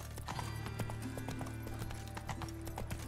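Roach, a horse in The Witcher 3 video game, gallops with steady, rapid hoofbeats over a continuous low ambient bed, with a faint whinny-like tone partway through.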